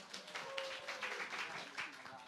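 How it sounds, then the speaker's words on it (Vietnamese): A short burst of audience applause at a university career talk show, a brief, dense patter of clapping from the crowd. "Một tràng pháo tay dành cho bạn."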